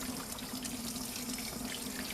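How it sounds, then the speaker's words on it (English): Steady tap water running into a salon sink while rinsing a permed hair set with curling rods still in, a continuous faint splashing flow with no voices. "you would continue to rinse, rinse, rinse, rinse, rinse until you do not see any more bubbles, suds, or anything like that in your water"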